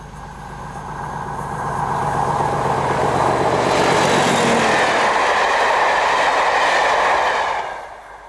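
A train runs along the Great Western main line beneath a former S&D bridge, its rumble and clickety-clack swelling as it approaches, holding loud and close for several seconds, then dropping away abruptly at the end.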